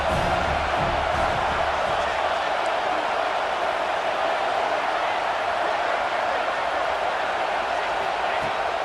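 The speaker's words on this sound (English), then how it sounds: "This crowd rising up, sensing that its defense needs some help." Football stadium crowd roaring, a continuous loud wash of massed voices that holds steady at full level for several seconds without a clear peak or break.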